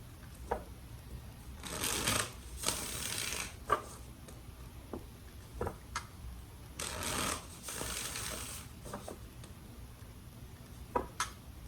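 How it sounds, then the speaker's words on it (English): Tarot cards shuffled close up in several quick riffling bursts, with soft taps and clicks of cards between them, quiet and without talk. "Let's do 3 more shuffles for Gemini and their person."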